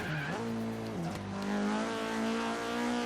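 A Vauxhall Corsa track build in Forza Horizon 3 revs hard in third gear, its engine note climbing with a quick pitch step early on, then holding a loud sustained high whine.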